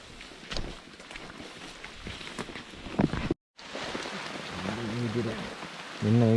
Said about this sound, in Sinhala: මහ වැස්සේ අපි යනවා.